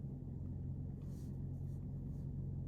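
A truck engine rumbles low and steady while driving, a faint continuous drone with no clear shifts in pace.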